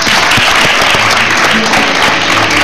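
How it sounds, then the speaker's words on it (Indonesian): A studio audience at a television talk show breaks into loud, steady applause for a guest. The dense clapping fills the whole moment without pause, and no one speaks over it. "tepuk tangan buat Umi"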